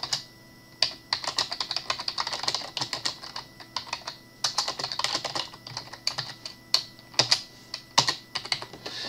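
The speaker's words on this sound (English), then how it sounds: "So, if I just try and type it in," Someone types on a computer keyboard in uneven bursts of quick, close key clicks with brief pauses between, fairly quiet and with no talking over it.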